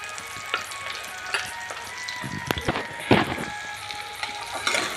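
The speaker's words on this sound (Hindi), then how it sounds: "देखिए, जीरा हमारा लाल हो गया है। प्याज डाल दूँगी।" Onions tipped into hot oil with reddened cumin seeds sizzle steadily up close, with scattered louder crackles and a few knocks of a utensil against the pan.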